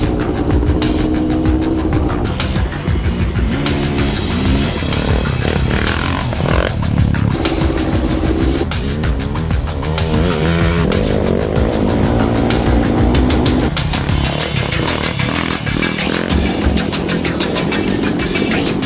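Off-road motorcycles ripping around a riding show put on by a cross-country racing club, engines revving and whining loud and close throughout, mixed with a busy, dense backdrop that may include music.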